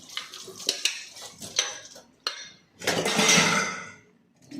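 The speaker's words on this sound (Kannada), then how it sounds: "ಈಗ ಫಸ್ಟ್ ಸ್ವಲ್ಪ ಪಾತ್ರೆ ಇತ್ತಲ್ಲ ತಿಂಡಿ ಮಾಡಿದ್ದು ತೊಳ್ಕೊಬಿಡೋಣ ಅಂತ ತೊಳಿತಾ ಇದ್ದೀನಿ" Dishes clatter and clink in a sink, with scattered knocks of utensils followed by a swell of running, splashing water.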